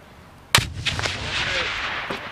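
A live fragmentation grenade bursts during US Marines training, one sharp distant boom with a rolling rumble that trails off, no talk over it.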